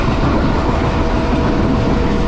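Mohenjo-Daro passenger train running at speed on track between Sann and Amri railway stations, a loud, steady rumble and rattle heard from onboard with no talk.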